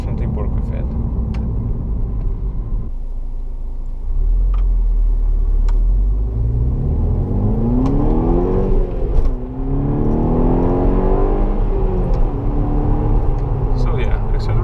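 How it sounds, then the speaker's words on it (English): A VW Golf 6 GTI Edition 35 with a turbocharged engine revs and accelerates, its whirring tone climbing and falling in repeated sweeps from the cabin while a person talks over it. "So this engine just really likes to rev."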